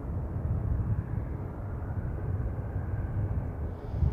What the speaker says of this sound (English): Just coming into the land, we've got a, there it is. It's a Ryanair 737-800.